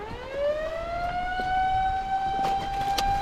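A warning siren for rising water sounds near the Susquehanna River, a steady rising wail that climbs and then holds, carrying over the outdoor background with faint clicks and no speech.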